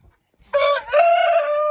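A rooster crows twice, loud and close, with the second call held longer and trailing off. It follows a brief quiet moment at a dacha chicken coop.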